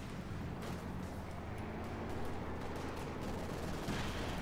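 Machine gun fire and battle noise from Company of Heroes 2, a World War II strategy game with German light machine guns firing on American troops, forming a dense, steady wall of gunfire and distant explosions with no talk.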